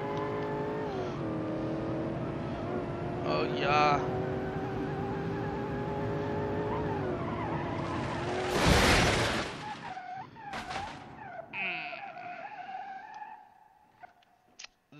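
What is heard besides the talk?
limo drag car accelerating and skidding in dirt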